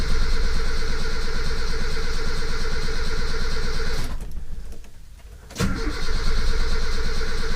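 A Toyota Kijang engine cranks on its starter with a steady loud whirring churn, drops away briefly to near silence, then the cranking resumes just as strongly.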